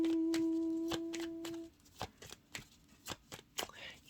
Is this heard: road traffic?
no